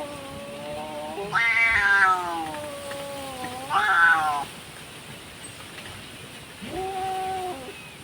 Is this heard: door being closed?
no